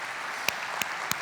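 Audience applause at a startup presentation, steady clapping from a room with a few sharp, louder claps standing out, short and moderately faint.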